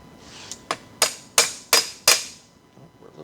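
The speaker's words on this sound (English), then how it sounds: "we're just gonna drive that pin in there" Six sharp hammer blows drive a dowel pin into a 1986 Porsche 944 Turbo transmission during final assembly, close and ringing, each strike louder than the last, no voices.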